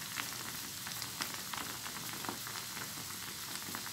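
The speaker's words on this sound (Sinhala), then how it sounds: "තෙල් එකට දාලා බෙදගමු." Rice vade, fritters shaped from leftover cooked rice, frying in hot oil with a steady, even sizzle and scattered small pops throughout, close and alone with no talk.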